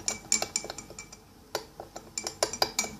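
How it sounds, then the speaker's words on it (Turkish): Slime mixture with borax being stirred in a tray, heard as a run of quick, sharp clinks and taps, close and moderately loud, in irregular bursts with brief pauses. "Bunu da iyice karıştırıyorum"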